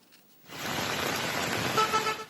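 Torrential rain in a Kalbaishakhi storm over a capital city, a dense, steady roar of downpour that swells in after a quiet start and stays loud and continuous to the end, with faint traffic beneath.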